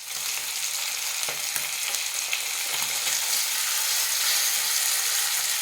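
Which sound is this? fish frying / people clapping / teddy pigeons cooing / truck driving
fish frying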